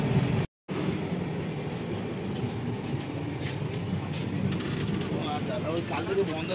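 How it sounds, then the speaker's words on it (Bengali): Inside a third AC coach of the Sealdah–Jammu Humsafar Express, the train runs with a steady low rumble and faint rattles, a continuous drone broken by a brief cut. "নির্দিষ্ট গন্তব্যে এগিয়ে চলেছে ট্রেনটা"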